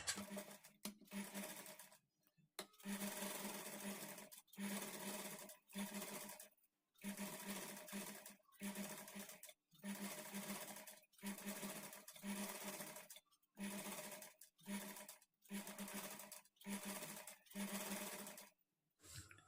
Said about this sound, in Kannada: ಈಗ ನಾನು ಈ ಕಡೆ ಎಡ್ಜಿಗೆ ಒಂದು ಕಾಲು ಇಂಚ್ ಗ್ಯಾಪ್ಗೆ ಒಂದು ಸ್ಟಿಚ್ ಮಾಡ್ಕೊಳ್ತೀನಿ